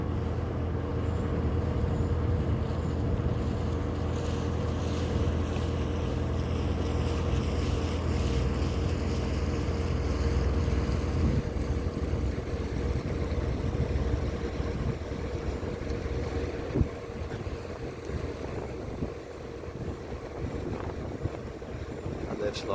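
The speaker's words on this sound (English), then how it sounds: "They do kick up a bit of a wake even at slow speed" Motor cruisers passing slowly on the River Ouse near York, a low steady engine rumble with water wash and wind buffeting the microphone, continuous and fairly close.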